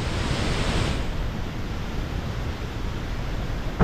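Steady broadband rush of water at Bhivtas waterfall, a continuous close roar that stays even throughout with no voices, ending with a brief louder bump.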